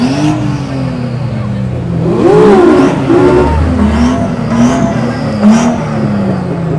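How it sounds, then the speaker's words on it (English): A single-turbo car revs at a busy car meet, its engine note rising and falling in several pulls under a steady crowd murmur, with other vehicles moving nearby. "That's a single turbo"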